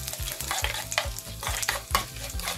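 Mustard seeds, cumin, black gram and bengal gram dal, and dried red chillies crackle in hot oil in a tempering, with a busy close sizzle and a rapid rhythmic scraping of stirring throughout.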